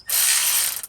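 A ratchet wrench turning a 13 mm socket gives one quick, close, continuous clicking burst under a second long, heard alone.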